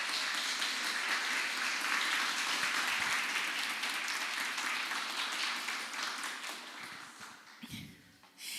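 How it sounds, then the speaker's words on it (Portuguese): A church congregation applauds together in a steady, dense wash of clapping that thins and fades near the end as a voice begins. "Aplaude ao Senhor."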